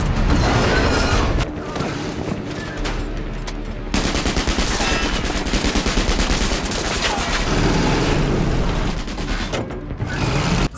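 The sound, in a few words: gunfire in an action film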